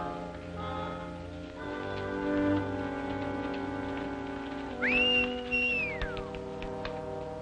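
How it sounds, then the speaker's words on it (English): A clear rising whistle calling a horse, with a held note and a falling tail, heard once over a steady background hum. "Stop whistling for that horse."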